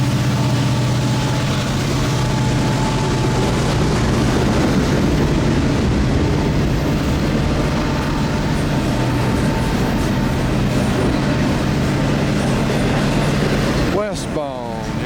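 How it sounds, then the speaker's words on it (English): A CN intermodal stack freight train runs westbound at Copetown, Ontario, making a loud, continuous rumble and rolling clatter of cars that holds steady throughout, with a brief shift in tone near the end. "Westbound, intermodal stack train, and good chance auto racks at the end."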